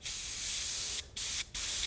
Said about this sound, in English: I've got one of these bottom feeds set up just for spraying.